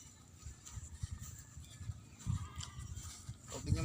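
Goats bleat faintly in a rural outdoor setting at Casa del Mar, a resort where goats now graze in place of horses, with a few soft calls scattered over low rumbling background noise.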